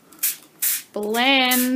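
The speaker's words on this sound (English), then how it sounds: "I'm going to gently spray the foil" Short hissing bursts from a spray bottle misting onto foil, two quick sprays, followed by a voice speaking close up.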